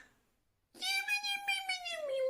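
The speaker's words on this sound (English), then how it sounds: "Aw, poor kitty." A cat gives one drawn-out, plaintive meow after a moment of silence, clear and close.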